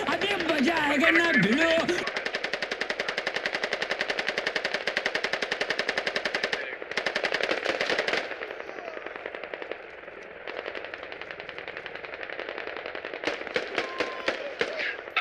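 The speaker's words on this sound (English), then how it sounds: "It's our machine gunner shooting from the heli, I think." Machine gun fired from a helicopter in the video game Squad: long runs of rapid, evenly spaced shots, loud and nearly continuous, broken by brief pauses.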